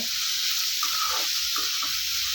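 Onions fry in a pan until golden for a chicken curry, making a steady close hiss with a few faint bubbling pops. The sound is brief and no one speaks.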